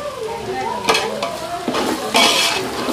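Ginger garlic paste frying in a pan for chicken biryani, a steady close sizzle with bursts of scraping as a spoon stirs it, and faint talk underneath.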